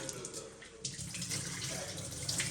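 Raw prawns being rinsed clean under a running kitchen tap, a steady close splash of water with a brief lull partway through, heard alone.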